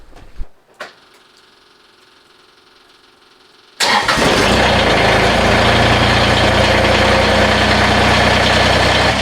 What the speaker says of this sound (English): we're gonna fire up the tractor